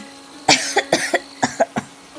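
A burst of repeated coughing, about seven or eight harsh coughs in quick succession, close and fairly loud.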